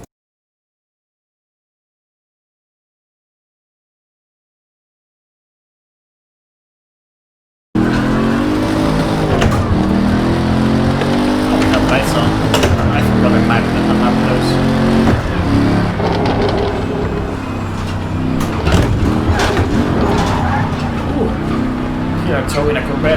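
A Corvette C8 driven in the racing game Project Cars 3: engine roar, tire squeal and shifting revs after several seconds of silence, loud and continuous, with someone talking over it.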